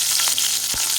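Duck meat frying in oil until lightly browned gives a loud, steady sizzle with a brief stirring scrape near the end, close up and with no voices.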